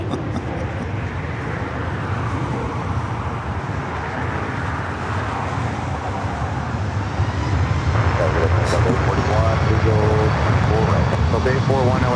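An airliner taking off from runway 24 left at LAX, a loud sustained engine roar and rumble that swells toward the end, with a voice talking over it.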